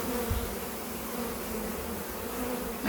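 Honey bees buzz in a dense, steady drone close by while a Flow Hive is opened for a full inspection, the hum continuous and fairly loud throughout.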